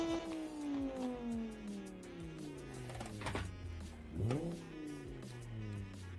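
Straight-five turbocharged car engine in the Automation game, revving and falling back in pitch with smooth harmonic drones, then a sharp rev climb near the end, fairly quiet, no talking.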